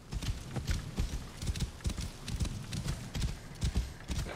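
A horse in the video game Assassin's Creed Origins trots with steady, rhythmic clip-clop hoofbeats that are close and fairly loud, with no talk over them.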